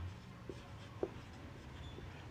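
Faint pen-on-paper writing of accounting entries, with a few soft scratches and light taps against a quiet room background, heard alone.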